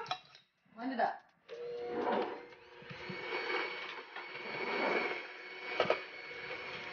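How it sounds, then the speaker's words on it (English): Electric hand mixer whirring through blondie batter in a home kitchen, a steady mechanical hum that starts and stops in short bursts before running continuously, fairly quiet, with occasional clinks and voices nearby. "This is a hand mixer. Blend it up."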